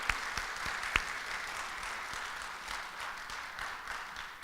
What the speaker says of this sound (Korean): 우리가 박수를 치는 건